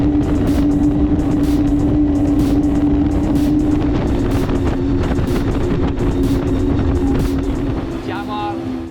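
A KOSHI 51 motorboat runs flat out at 5,000 RPM, its engine a loud, steady, droning roar with heavy wind and water rush throughout.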